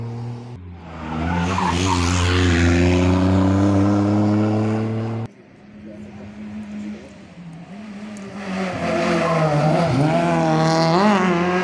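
A rally car on the first stage of a Felguera rally in Asturias races past close and loud, engine screaming through rising gear changes with tyre squeal, cutting off abruptly before a second car's revving builds again.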